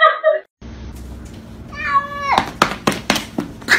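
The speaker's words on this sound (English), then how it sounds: "Upset cat attack owner." An upset cat meows loudly and up close, giving a long rising cry followed by several short, sharp yowls in quick succession, with brief bits of a person's voice mixed in.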